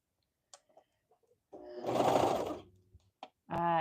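A home sewing machine runs in one short burst of stitching lasting about a second, close and moderately loud, set between quiet pauses with a few small clicks and a brief voice at the end.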